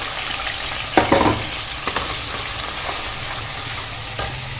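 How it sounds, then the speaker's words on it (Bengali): A ground onion and tomato paste frying in a pan for mutton kasha, a loud, steady sizzle broken by several scraping stirs and light clinks of the spatula, close up. "প্রায় 2 মিনিট মতো ভালো করে নাড়াচাড়া করে ভেজে নেব"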